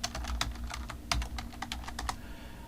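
Quiet typing on a computer keyboard: a steady run of light, irregular key clicks over a low background hum, no voices.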